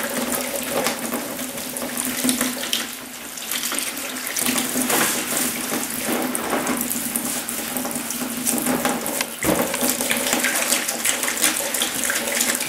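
Tap water runs steadily and fairly loud into a sink while a paintbrush is rinsed after painting woodwork, a continuous splashing wash with brief dips.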